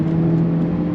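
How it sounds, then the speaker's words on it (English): A Hyundai Elantra N accelerates under throttle mid-corner, its engine producing a loud, steady droning hum from inside the cabin for about a second, with no speech. "So when you apply throttle mid-corner"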